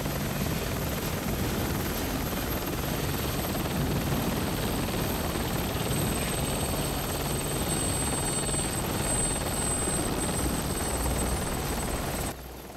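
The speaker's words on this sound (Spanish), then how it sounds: "Ahí está el helicóptero." Helicopter arriving to land, a steady loud rotor and engine roar filling the whole stretch without a break before cutting off abruptly at the very end.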